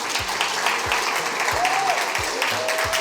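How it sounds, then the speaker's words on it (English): Audience clapping for panelists at a trade and compliance conference, a steady wash of hands under low rhythmic thuds and a brief tonal squeal. "Let's appreciate them with a big hand clap"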